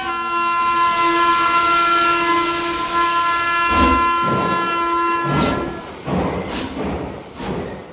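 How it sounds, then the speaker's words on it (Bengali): Sound-effect train rumbling past with a steady, loud whistle or horn tone, followed by heavy rhythmic thuds and clatter of wagons toward the end, no voices. "চোখের সামনে দিয়ে হুইসেল বাজিয়ে চলে গেল ট্রেন"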